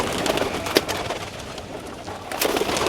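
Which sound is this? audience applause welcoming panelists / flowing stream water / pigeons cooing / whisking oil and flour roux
pigeons cooing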